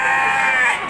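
Sheep bleat loudly and close by at a busy livestock market, a sustained wavering cry over crowd murmur.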